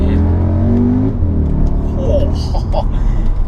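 An Audi SQ2 with a stage 1 map accelerates hard in second gear, a loud rising engine drone heard from inside the cabin, followed by a shift and a brief voice over the running engine.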